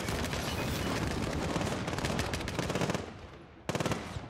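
Rapid automatic AK rifle fire in the video game Call of Duty Modern Warfare, dense back-to-back bursts that thin out, stop briefly, then resume with a short final burst.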